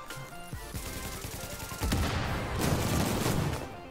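Gunfire aimed at a seeker mine in the shooter game The Division, a continuous rapid automatic burst rattling for several seconds with a heavier impact partway through, loud and close with no talk over it.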